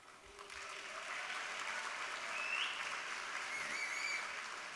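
Sustained audience applause fills a hall at a State of the City speech in Stockton, a steady dense wash of clapping that swells slightly midway and holds without speech.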